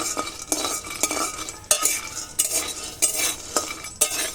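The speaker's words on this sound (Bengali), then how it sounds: "বাদামগুলো দিয়ে নাড়াচাড়া করতে থাকবো।" Peanuts dry-frying in a kadai are stirred with a utensil, giving rhythmic scraping strokes about twice a second, each a bright rattle of nuts against the metal pan, close and fairly loud with no talk.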